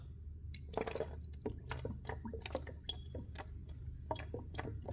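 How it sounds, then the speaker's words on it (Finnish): Water poured into a funnel fitted tightly into a bottle gives a steady low gurgle under a run of irregular drips and small splashes, close and fairly quiet, with no talking. "Eli kaadetaan vettä suppiloon."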